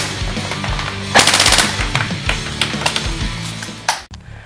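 Classic Army SCAR Sportline airsoft electric rifle running on a 7.4 LiPo, firing full-auto at about 1,000 rounds per minute, a rapid buzzing rattle of bursts at close range with no talk.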